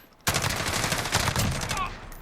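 G36K rifle firing in Call of Duty: Modern Warfare, a sudden sustained burst of rapid automatic fire lasting about two seconds, loud and close.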